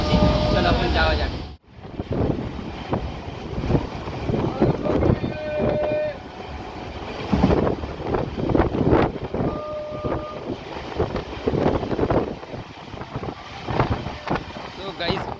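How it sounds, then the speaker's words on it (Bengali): A train in motion, heard from inside a carriage: a continuous low rumble and rattle with wind-like rushing, and voices talking over it throughout. "ফাইনালি ট্রেনে উঠে পড়লাম"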